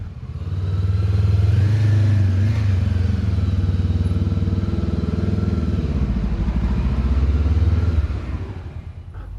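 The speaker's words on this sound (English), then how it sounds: "I keep the revs high to avoid stalling and balance the bike with the clutch and brake." Motorcycle creeping along at walking pace with the engine held at high revs, clutch and light rear brake controlling speed; a steady, close buzzing drone that fades slightly at the end.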